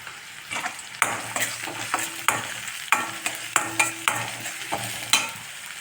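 Onion and crushed garlic sauté in a pan with a steady sizzle, punctuated by a regular series of scraping stirs and light knocks about every half second, close and clear with no talking.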